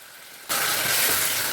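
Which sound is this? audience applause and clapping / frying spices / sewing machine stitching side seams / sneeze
frying spices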